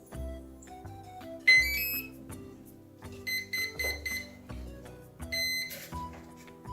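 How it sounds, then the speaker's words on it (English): An RC plane's electronic speed controller, in an Arrows RC Husky 1800mm, plays its start-up tones and then beeps four times for a 4-cell battery; the short electronic tones come in clear, evenly spaced bursts, with nobody talking. "Four beeps, meaning that's a 4 cell."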